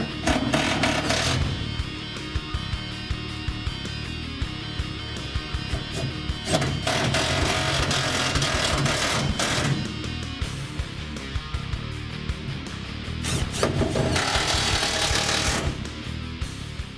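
A power tool drives the fuel tank mounting screws on a 1965-1968 Ford Mustang, with steady buzzing bursts and brief pauses between screws, loud and close.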